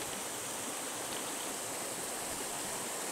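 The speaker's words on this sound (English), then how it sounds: "This is the mountain water that you can drink from." Clear mountain spring water in Japan flowing steadily, a continuous close rushing and splashing like a small stream, alone with no voices.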